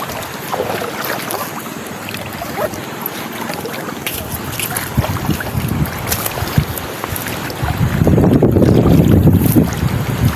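A boat moving through strong, gusting wind at high tide, with heavy wind buffeting on the microphone and a louder rush near the end.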